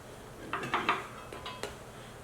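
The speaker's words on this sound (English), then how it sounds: "Maybe a raspberry, if I can get it to slice good." A knife slicing a raspberry for a raw vegan berry cake makes a few light, close taps and clicks on a hard surface, spaced irregularly over a quiet background.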